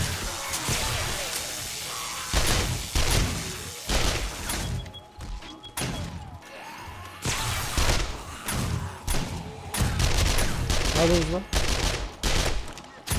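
Turret gunfire during a horde night in the video game 7 Days to Die rattles in loud repeated bursts with crashing impacts, while someone talks over the shooting.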